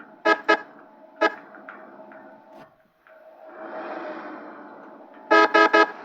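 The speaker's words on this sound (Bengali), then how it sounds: "ডিপার মারতেছি, হর্ন দিচ্ছি, তারপরেও সাইড দেয় না" Bus horn honking in Bangladeshi road traffic: a pair of short blasts, one more single toot, then a quick burst of three loud honks near the end, over a steady engine drone.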